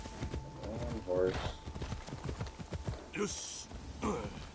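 Horse hooves clip-clopping in the Assassin's Creed Shadows video game, a quick rhythmic trot under game voices and a brief whinny-like tone.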